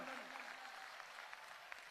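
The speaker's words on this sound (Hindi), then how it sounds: "जोरदार तालियों से अभिनंदन।" Applause from a Hindu devotional gathering during a Sanatan unity pilgrimage march, a broad continuous wash of hand clapping from a crowd that stays steady throughout, with no clear talk on top.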